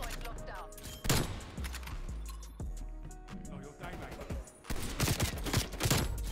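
Gunfire from Black Ops Cold War, with several sharp rifle shots and metallic clinks over game music and ambient noise, while a voice talks in the background.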